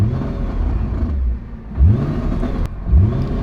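A Nissan GT-R engine is blipped in short revs, each rising whine followed by a settling idle, with a loose rattling clatter underneath; the car sounds close and fairly loud, with no talking.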